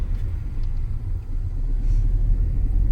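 Low, steady rumble of a Hyundai i20 petrol engine pulling in low gear without throttle, close and continuous with no voices.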